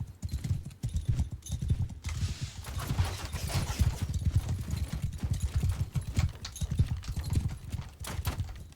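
Horses gallop in the Bannerlord video game, rapid thudding hoofbeats in a continuous rolling rhythm with an occasional whinny over a battle din.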